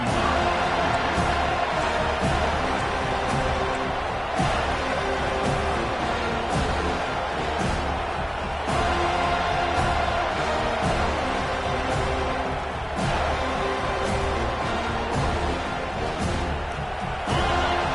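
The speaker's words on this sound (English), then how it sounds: "This crowd bringing serious noise on this huge 4th down play." Loud, continuous roar of a large American football stadium crowd during a 4th down play, swelling steadily with scattered shouts and cheers throughout.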